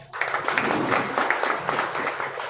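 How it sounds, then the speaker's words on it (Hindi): An audience at a live gathering in Fatehabad breaks into applause, a dense burst of many hands clapping that starts abruptly and holds steady and close for a couple of seconds without speech. "हरियाणा की शान नवीन नारू, जोरदार ताली होनी चाहिए।"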